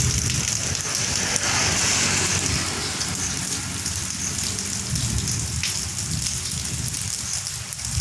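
Steady rain pours down in a dense, hissing wash, with drops pattering on nearby surfaces and no voices.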